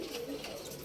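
African lovebirds in an aviary chatter and call continuously, a dense, steady twittering that fills the short moment at moderate distance.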